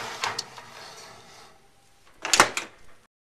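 An oven door opens with a short thud, then after a quiet pause it shuts with a louder clunk, heard close by.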